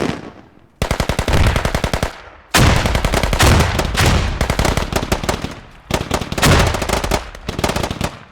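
Dense, loud machine-gun fire and artillery blasts from a multiplayer war video game, with continuous rapid bursts broken by a few brief pauses, and no voices.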